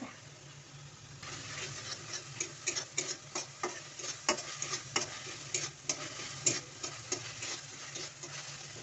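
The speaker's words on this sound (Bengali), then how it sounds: "মশলাটা ভালোভাবে কষিয়ে নেওয়ার পর আমি কিন্তু কাঁচা লঙ্কা পেস্টটা দিয়েছি" Spice paste with green chili paste frying in a pan for a vegetable dish with cauliflower, potato and fish, a steady sizzle broken by frequent sharp scrapes and clinks of stirring, close and moderately loud, with no talk.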